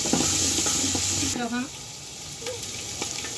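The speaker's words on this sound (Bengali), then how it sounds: "1 টেবিল চামচ নারকেল বাটা দিয়ে এটাকেও ভালোভাবে কষিয়ে নিব" Spices and a tablespoon of coconut paste sautéing in a pan for chicken biryani, a loud continuous sizzle that eases partway through, with stirring scrapes and brief speech over it.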